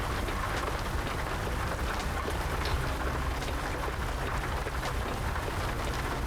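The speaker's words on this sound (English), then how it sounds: "I'm just listening to the rain" Steady rain in American Truck Simulator, a dense even hiss of drops pattering on surfaces that holds at a constant level throughout, with no voices over it.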